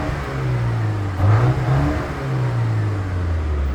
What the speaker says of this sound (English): Yep, that's the exhaust note for you.